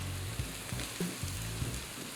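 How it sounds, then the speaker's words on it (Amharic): Crushed garlic dropped into hot oil in a pan while preparing an Ethiopian fitfit dish, a close, steady sizzle with soft crackling pops and a few light scraping stirs throughout. "አሁን የተጋጨውን ነጭ ሽንኩርት ጨምራለሁ።"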